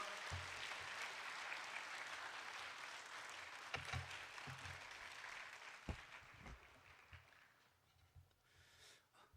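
A church congregation applauds steadily to welcome a guest speaker at a Sunday service. The clapping is dense and sustained, then thins out into a few scattered claps toward the end.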